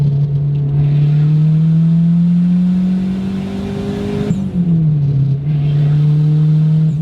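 A Dodge Neon SRT4 ACR pulls hard in fourth gear. The loud, close engine drone climbs steadily, dips briefly partway through, then picks back up and keeps pulling.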